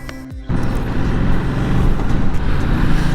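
A Ducati Multistrada 950 motorcycle riding on new Dunlop Trailmax tyres, a brief quiet moment cut off as loud, steady engine and wind rumble takes over and continues throughout.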